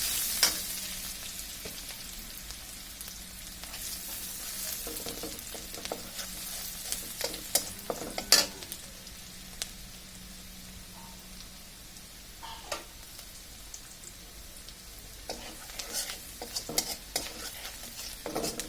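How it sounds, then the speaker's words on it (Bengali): Onions frying in hot oil in a pan for a koi fish curry, with a steady sizzle and repeated scraping stirs of a spatula throughout, near and fairly loud, no talk. "পেঁয়াজগুলো বেশি ভাজবো না, হালকা একটু নরম হয়ে আসলে এর মধ্যে আমরা মশলাগুলো দিয়ে দিব।"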